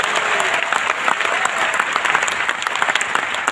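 Congregation applause at a Pentecostal church service, a steady dense wash of many hands clapping that holds at full strength from start to finish with no speech over it.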